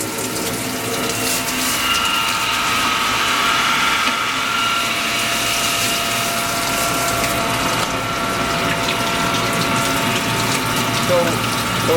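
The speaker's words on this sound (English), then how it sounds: "That was the water hose, and now we're switching it off to the water feed inside the machine." The water pump and water feed of a Reichmann wet sander ski tuning machine run steadily, giving a continuous watery mechanical whir with faint ratcheting texture throughout.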